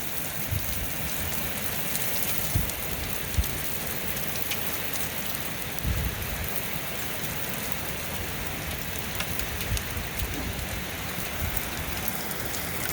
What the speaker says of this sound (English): It is really, really raining hard and it is hailing out.